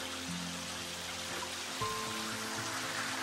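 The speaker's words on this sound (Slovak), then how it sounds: "je to tento malý vodopádik, krásny" A small waterfall in Slovenský Raj gorge splashes and trickles continuously, a soft, steady rush of falling water heard faintly with no talk.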